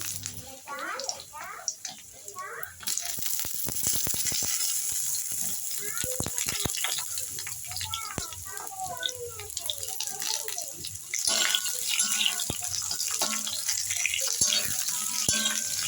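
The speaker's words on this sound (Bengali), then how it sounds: "ঘ্রাণ বেরোলে তাতে দিয়ে দিন কেটে রাখা আলু" Cut potatoes frying in hot mustard oil with black cumin in a kadai, a steady hiss and crackle with scattered pops and clinks throughout.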